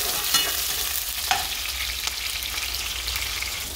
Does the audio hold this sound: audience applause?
no